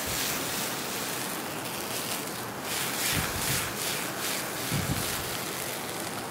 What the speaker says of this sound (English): we're going to put the brandy in. And we're going to flambe it to burn off the alcohol